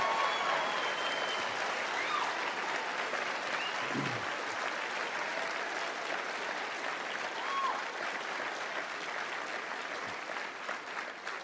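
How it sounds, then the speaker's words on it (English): Audience at a motivational speech applauds continuously, dense clapping mixed with a few cheers that stays strong for about eleven seconds. "Give yourselves a round of applause."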